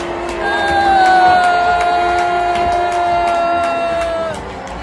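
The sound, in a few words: crowd booing Mr. Carney in played clip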